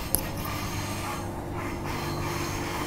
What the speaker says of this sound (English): So that's why we got some sounds here and some trains coming up here.